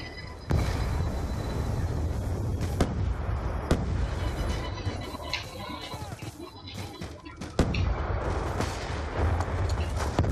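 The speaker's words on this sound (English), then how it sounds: "Friendly Hellstorm missile inbound." Hellstorm missile strike in a Black Ops 2 team deathmatch, a string of heavy booming blasts and sharp cracks over a continuous roar of gunfire and rumble, loud and dense, with a few sudden louder impacts.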